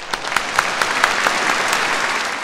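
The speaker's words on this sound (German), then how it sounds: "wir klatschen jetzt einfach mal ganz toll für die Frauen" Audience applause for the women on International Women's Day, a dense steady patter of many hands clapping with sharp individual claps standing out, fairly loud and continuous without talk.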